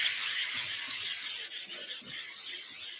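A 120-grit abrasive brick is rubbed across a diamond sharpening plate, giving a close, loud, continuous gritty scrubbing hiss with slight breaks in the strokes.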